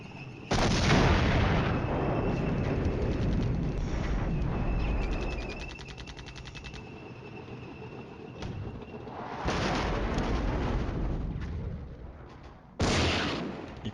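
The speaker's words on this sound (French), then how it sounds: "Voilà l'artillerie qui tape." Artillery in the Cold War strategy game Flashpoint Campaigns: a series of booming shell impacts and bursts over rumbling battle ambience, with some loud, distinct hits and quieter stretches between them.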